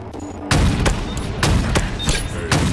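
Gunfire in the Halo Infinite Firefight mode: several sharp, loud weapon shots spaced about half a second to a second apart, each with a short booming tail.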